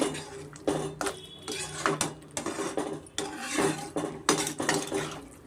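Potatoes fried and stirred in a pan over a medium flame for aloo fry curry, with repeated clattering spatula strikes and scrapes in an irregular rhythm, close and fairly loud, no talking.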